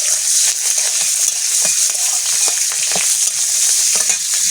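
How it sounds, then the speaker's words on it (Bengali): Panch phoron, dried red chillies, green chillies and bay leaf fry in hot oil, a steady close sizzle with scattered crackles and stirring scrapes throughout, no voices. "পাঁচ ফোড়ন দেবো, শুকনো লঙ্কা চিড়ে দেবো, কাঁচা লঙ্কাগুলো দিয়ে দেবো, তেজপাতা দেবো"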